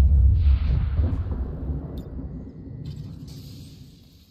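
A deep, booming grenade explosion in the video game XCOM 2 that rumbles heavily at first and slowly fades out over a few seconds, with no voices.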